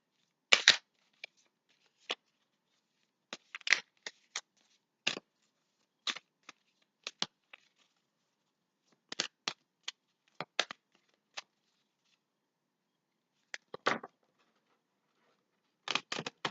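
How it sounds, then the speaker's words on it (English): Tarot cards being shuffled by hand give off short, crisp riffling bursts separated by quiet pauses. The bursts come in an irregular rhythm, close and soft, with no talking. "That card wants to come out."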